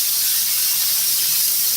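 An aerosol can of spray adhesive sprays onto sun visor material during an auto interior recover, producing one loud, unbroken hiss held from a short distance with no talk.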